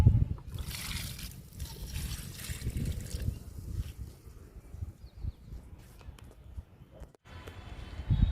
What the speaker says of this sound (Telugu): స్టార్ ఫ్రూట్కి ఇచ్చేద్దాము లిక్విడ్ని.